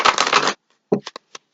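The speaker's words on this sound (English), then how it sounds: "I'm going to do a little bit more shuffling here." Tarot cards being shuffled by hand: a close, loud riffle lasting about half a second, then a few separate soft card taps and flicks.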